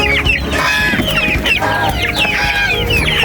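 Chicks and chickens cluck and peep busily at feeding time, a close, continuous chorus of overlapping chirps and clucks.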